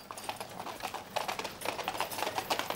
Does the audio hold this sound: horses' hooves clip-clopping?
yes